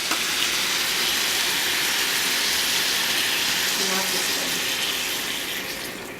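Beaten eggs poured into a hot pan for a vegetarian frittata, giving a steady loud sizzle and hiss across the whole clip that eases slightly at the end.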